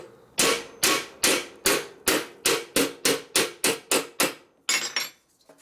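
A hammer pounds a chassis part on a 1942 Harley-Davidson WLA 45ci Liberator motorcycle being rebuilt, landing about a dozen loud, sharp metallic strikes in an even, steady rhythm, followed by a brief rattling clatter.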